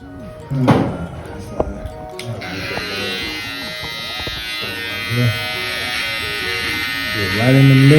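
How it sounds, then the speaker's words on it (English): Electric hair clippers fading a haircut, using the corner of the blade, hum steadily close by while someone talks over the buzz. "We're using the corner of the clipper."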